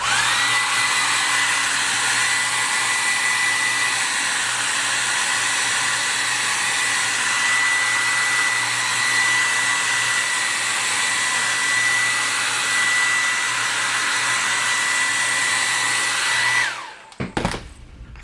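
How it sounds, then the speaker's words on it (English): A hairdryer blows steadily to dry paint on a carved wooden caricature cone Santa Claus, a loud continuous whine held for about seventeen seconds before it cuts off abruptly, with no talking. "Give me about 15 seconds on the hairdryer to dry it out"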